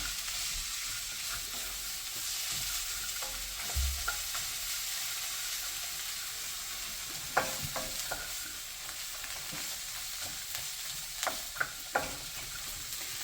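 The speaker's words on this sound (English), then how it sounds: "And then stir it well" Egg hakka noodles stirred in a hot pan, a steady broad sizzle throughout with occasional sharp clicks of the utensil against the pan toward the end, fairly quiet and without speech.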